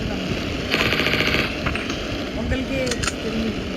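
Rapid bursts of automatic gunfire from the mobile shooter game Mini Militia rattle in loud repeated volleys, with short breaks between strings of shots and a steady game soundtrack underneath.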